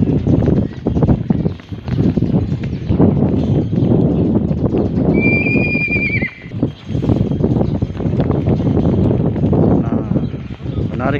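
Racehorses at a horse racing event by the main grandstand: hooves clip-clop and a horse neighs loudly partway through, with a crowd murmuring and voices talking over the scene throughout.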